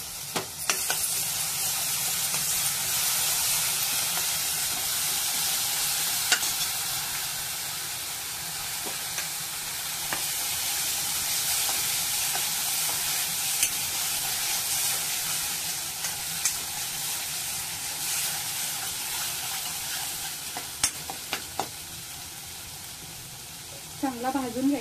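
Ground spice paste for dubuk vade frying in a hot pan while being stirred, a steady sizzle and hiss with scraping stir strokes and occasional clinks, speech faintly in the background.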